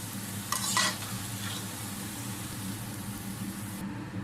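Sliced bitter gourd fries in oil to a golden colour, a steady close hiss and sizzle with a brief louder stir or clink near the start.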